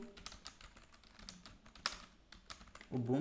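Quick, close taps on a computer keyboard while typing commands, a run of light clicks ending in a firmer keystroke, followed briefly by a voice starting to talk.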